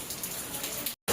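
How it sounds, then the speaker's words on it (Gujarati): Steady rain falls outdoors at a home, a dense even hiss of drops on surfaces heard alone for about a second before a brief cut and return. "તો જો વરસાદ ચાલુ થઈ ગયો છે"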